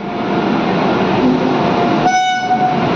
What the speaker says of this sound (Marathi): मित्रांनो आपले पुणे रेल्वे स्टेशनवरची रेल्वे आले बघा आता.